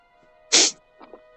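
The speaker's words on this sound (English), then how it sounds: "I did not mean to sneeze into my mic." One loud, sharp sneeze right up against a microphone bursts out abruptly, followed by faint breathy mouth sounds and quiet shuffling.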